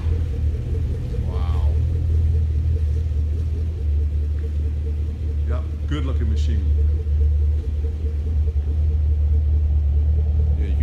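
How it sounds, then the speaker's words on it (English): Deep steady V8 rumble from a 2014 Chevrolet Camaro 2SS RS with a 6-speed manual, idling continuously close by while people talk over it. "you can hear that nice rumble now"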